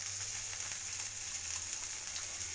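Mustard seeds, cumin, onion and green chilli fry in hot oil for vegetable shavige upma, giving a steady, even sizzle with faint crackle that carries on without pause and with no voices.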